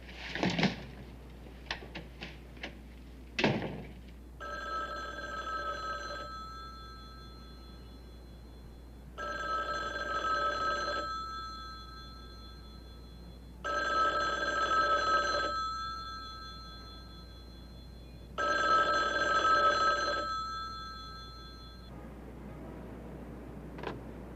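A telephone rings four times in long, evenly spaced bursts, with a few knocks and clatters at the start, heard indoors at moderate volume with no one answering.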